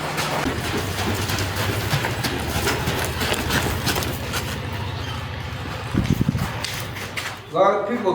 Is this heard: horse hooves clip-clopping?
yes